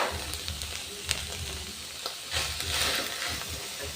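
Spring onions and leek cooking in a pan for a samosa filling, a soft steady sizzle with a low rumble underneath and occasional light stirring taps, fairly quiet and close, no voices.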